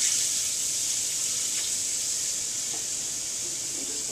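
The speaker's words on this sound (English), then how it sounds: "I'll turn the water on to start letting it flow." A kitchen sink tap runs steadily, a continuous bright hissing stream of water filling the basin, fairly close and alone.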